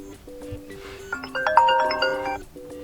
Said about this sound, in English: or selecting one of those system ringtones